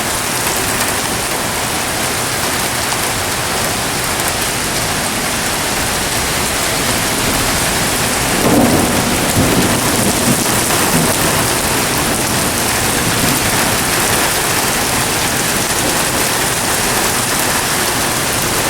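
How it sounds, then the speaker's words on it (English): Heavy rain pours steadily and loudly throughout, a dense broadband hiss with a low rumble of thunder swelling briefly midway, no voices present. "I think with this rain."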